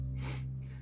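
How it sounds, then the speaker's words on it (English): A short, audible breath drawn in through the nose, a half inhale taken during Kapalabhati pranayama breathwork, close and alone over a steady low hum. "We're then breathing in half a breath"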